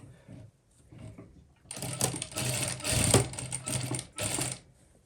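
A sewing machine attaching a sleeve runs in a loud, close burst of rapid needle clatter lasting a few seconds, following a quieter stretch of handling noise at the start.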